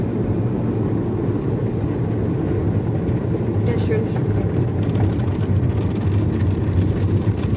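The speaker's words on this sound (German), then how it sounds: "Und jetzt werden wir praktisch trocken geblasen." Loud, steady roaring of blowers at a car wash fills the clip, a constant low rush of air, with a voice speaking briefly over it.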